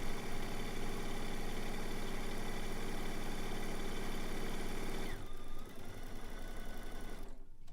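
A sewing machine stitches quilt pieces for a zig-zag quilt, running in a fast, steady, close mechanical whir with a rapid rhythmic clatter that changes pace near the end and then stops.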